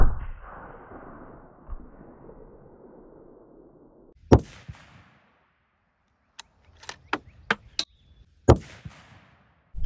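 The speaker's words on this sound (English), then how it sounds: "after shooting those 180 grain Superformance SSTs out of the 30-06" A 30-06 rifle fires Hornady Superformance 180-grain SST rounds into ballistics gel, with one sharp loud report and then a string of crisp clicks and clanks after quiet rustling.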